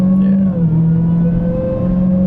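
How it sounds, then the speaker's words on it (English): Supercharged engine of a 2020 Dodge Challenger Hellcat Redeye at light throttle: a loud, close, steady whine over deep engine rumble that dips slightly and then holds, with no talking. "Listen to that supercharger."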